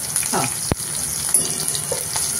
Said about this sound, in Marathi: हळद घालू, त्याच्यामध्येच आपण हिंग घालू.